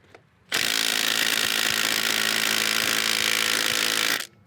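A Milwaukee M18 FUEL compact impact driver with a Mac socket hammers against a stuck fastener that won't turn: a sudden, loud, continuous buzzing rattle for about three and a half seconds, then it cuts off abruptly. No one speaks.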